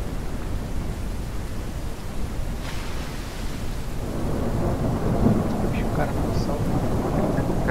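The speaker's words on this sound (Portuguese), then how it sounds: "tá chuva" Video game rain hisses steadily in the game Beasts of Bermuda with a low, rolling rumble of thunder, a dense continuous wash of noise with faint distant voices briefly audible.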